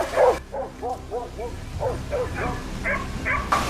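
Hunting dogs surround a wild boar, barking and yipping in rapid, repeated bursts close by, with overlapping yelps and whimpers forming a continuous, agitated chorus.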